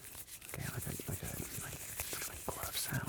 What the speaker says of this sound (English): like glove sound